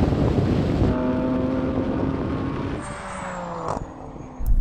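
A BMW M340i with four-wheel drive accelerating hard in a drag race, engine tone rising through a gear change, heard from inside under heavy wind roar with a faint whine toward the end.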